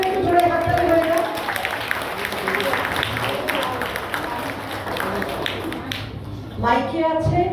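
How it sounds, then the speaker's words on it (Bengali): An audience at a children's event claps loudly and steadily for several seconds, with scattered voices, before the clapping fades and a voice speaks over a microphone. "সবাই করে একটু জোরে হাততালি হয়ে যাও।"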